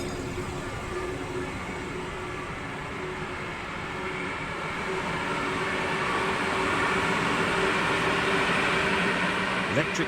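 Trains run on the Bremen–Oldenburg line in Train Sim World 3, a steady rumbling roll with faint rail clatter that gradually grows louder, under a narrator's voice.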